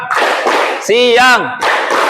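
Classroom clap chant in a Grade VII lesson, two short bursts of students clapping, then a sung voice calling out in between, then another burst of clapping, all close and fairly loud.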